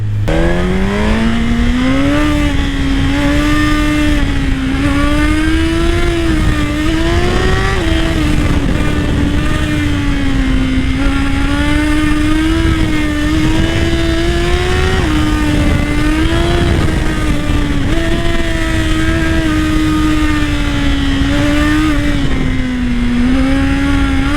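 A Suzuki GSX-R 1000 sportbike roars loud and close while ridden, its engine note climbing and dropping repeatedly through gear changes and throttle blips, with no voices.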